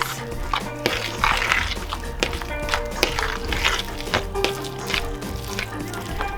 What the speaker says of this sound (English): So we add the 2 eggs. We're gonna mix.